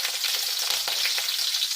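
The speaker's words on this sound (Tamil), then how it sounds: "வானல் வச்சு ஒரு 2 ஸ்பூன் எண்ணெய் ஊற்றி முதல்ல இஞ்சி போட்டுடணும்" Ginger and green chili frying in oil in a pan, a steady bright sizzle with crackling pops throughout, close and fairly loud with no voices.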